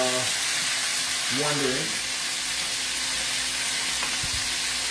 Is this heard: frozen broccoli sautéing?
yes